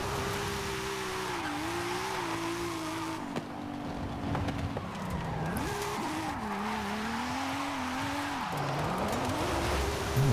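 A car with slick tires racing down a mountain in Forza Horizon 5, its engine droning loudly and shifting pitch as it revs, with tires squealing and skidding through drifts throughout, no talk over it.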